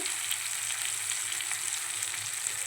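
Potatoes frying in a pan with coriander-cumin powder and salt give a continuous, even sizzle, close and moderately loud, with no talking.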